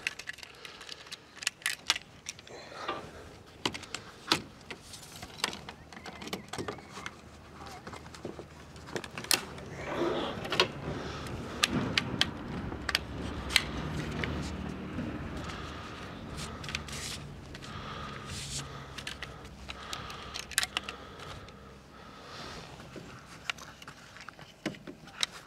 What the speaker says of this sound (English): And then you close this up and it'll click. Do that two other times.